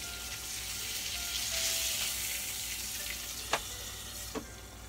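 Sea catfish caught in Florida grills with a soft, steady sizzle, broken by a couple of faint taps near the end.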